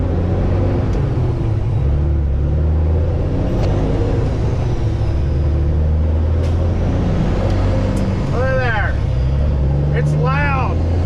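Kenworth W900 truck engine idling loudly nearby, a deep steady rumble with a couple of air-brake-like hisses late on, and someone talking over it.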